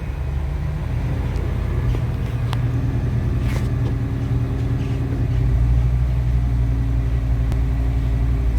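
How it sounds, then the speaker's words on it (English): Engine of a 1971 Ford Bronco idling after starting without throttle, a loud, steady low rumble close by with a slight rise in tone partway through and no talk. "Engine starts right up without touching the gas."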